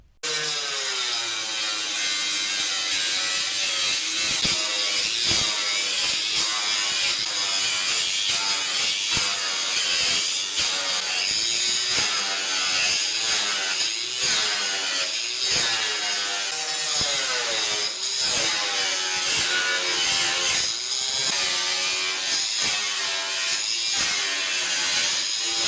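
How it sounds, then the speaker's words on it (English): Angle grinder with a cutting wheel slicing through rocker panel sheet metal on a Mercury Sable station wagon, a loud sustained high-pitched whine with rhythmic rasping pulses as the wheel bites, running steadily with no talk. "then we can take and cut this out using the angle grinder with the cutting wheel"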